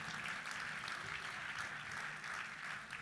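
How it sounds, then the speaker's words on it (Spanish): Church congregation applauding in praise of the Lord, a steady wash of many hands clapping together, moderately distant and even throughout with no voices rising above it. "Fuerte ese aplauso de alabanza al Señor."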